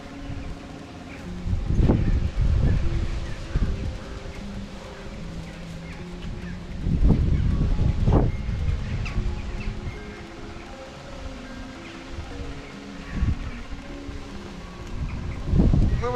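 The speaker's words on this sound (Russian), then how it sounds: "сейчас ветер сильный" Strong wind buffets the microphone in heavy low gusts at a cemetery, with bursts near the start, middle and end, and rustling and faint birds in the background.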